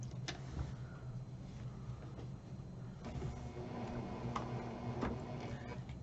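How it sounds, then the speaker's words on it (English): A sewing machine runs steadily sewing a quarter-inch seam, with a low mechanical hum and faint rapid ticking, with a few sharper clicks scattered throughout. "I'm going to go to the sewing machine and sew this."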